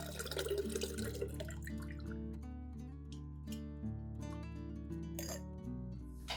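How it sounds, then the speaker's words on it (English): Garlic-infused water dripping and trickling through a filter in a steady, close patter of small drops, with faint clinks and no voices. "we'll filter out the garlic water for the next step in the plant treatment process."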